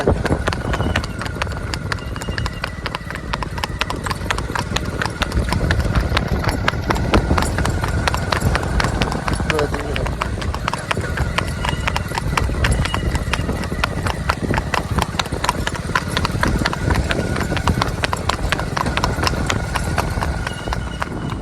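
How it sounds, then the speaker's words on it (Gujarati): A ridden mare's hooves clip-clop in a steady walking rhythm, close and continuous for the whole stretch, with faint voices underneath. "ઘોડી મસ્ત હાલી જાય છે ભાઈ."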